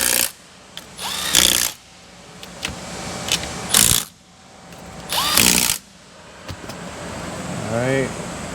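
Impact wrench rattles bolts down on Ford camera trim in short loud bursts, four separate rattling runs with quieter gaps between, close by, with faint handling noises in the pauses.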